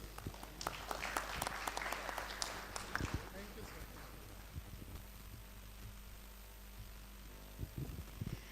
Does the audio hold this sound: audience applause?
yes